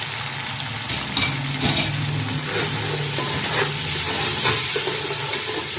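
Tomatoes and spices sizzle in a hot pan as a spoon stirs them, with scraping strokes over a steady frying hiss.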